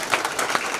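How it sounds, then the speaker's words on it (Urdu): Audience applause welcoming a guest onto the stage at an all-India mushaira poetry seminar, a dense steady patter of many hands clapping close by. "جسبیر سنگھ جی، تالیوں کے ساتھ استقبال کیجیے"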